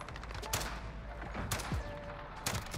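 Gunfire in a Modern Warfare multiplayer match, three sharp shots spaced about a second apart over a low background rumble, moderately faint, with no talk.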